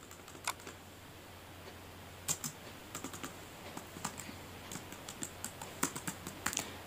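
Computer keyboard typing in quiet bursts of light, irregular keystroke clicks, set against a faint steady hum with no voices.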